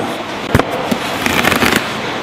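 A karambit knife blade slashes and tears into a target in a quick cluster of sharp, crackling rips and thuds over about two seconds, close and loud.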